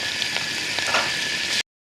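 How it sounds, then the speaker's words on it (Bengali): Garlic and radhuni seeds with green chillies fry in hot oil in a kadai, giving a steady close hiss and crackle that cuts off abruptly at the end. "এদিকে রসুন আর রাঁধুনিটা একটু ভাজা ভাজা করে নিয়েছি।"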